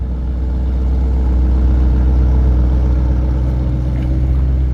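A Lamborghini Huracán Performante engine idles with a deep, continuous, slightly pulsing rumble, close and fairly loud, with no voices.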